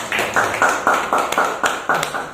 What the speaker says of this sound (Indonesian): Kita beri aplaus dulu Pak Guru